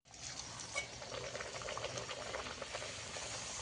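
Pea-stuffed kachori frying in hot oil in a wok, a steady close sizzling hiss with fine bubbling crackle throughout, no voices.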